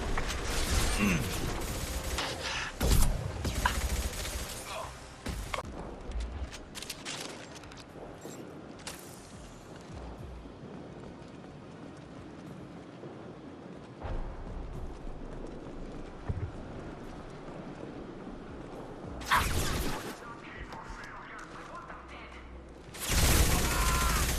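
Mass Effect 2 firefight against Blue Suns mercenaries, with bursts of gunfire and impacts spread through a busy combat mix, loud cracks near the start and end.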